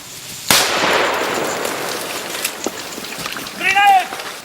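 An airsoft grenade goes off in a sharp close pop followed by a scattering hiss of pellets and debris, with a voice shouting briefly near the end.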